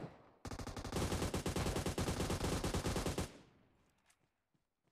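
Sustained automatic gunfire from a PUBG squad fight, a loud, dense rapid burst of shots lasting about three seconds, then a few faint scattered pops as it dies away.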